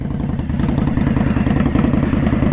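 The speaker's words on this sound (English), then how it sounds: "That exhaust sounds good." A 2020 Indian Scout Bobber motorcycle idles close by with its exhaust giving a loud, even, lumpy rumble throughout.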